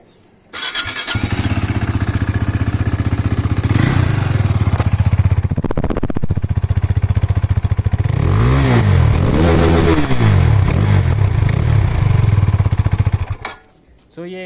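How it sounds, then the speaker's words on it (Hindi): A KTM RC 390 motorcycle with its stock exhaust starts up nearby and idles loudly, then revs repeatedly in rising and falling bursts before cutting off abruptly. "तो ये स्टॉक एग्जॉस्ट का साउंड था।"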